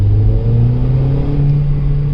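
A Volkswagen Polo GT TSI's engine and exhaust rumble with a steady, throaty drone during a downshift, loud and close from inside the car.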